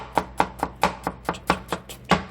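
A knife chops ingredients for beef chili on a cutting board, striking about ten times in a steady, brisk rhythm. Each chop is close and crisp and stands alone, with no talking over it.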